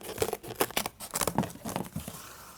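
Scissors snip through paper during a home craft project, a quick series of crisp crinkling cuts and rustles, close and fairly loud with no talking.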